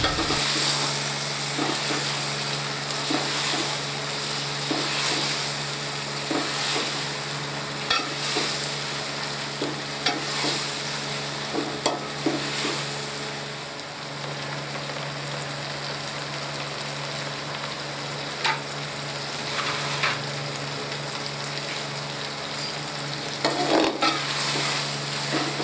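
Tomatoes fry in a masala base in a pan, giving a steady close sizzle broken by regular scraping stirs throughout, with no talking.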